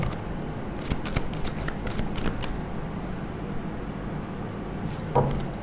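Tarot cards are shuffled close by in quick, dense riffling bursts that run continuously, ending with a brief louder slap, with no voices.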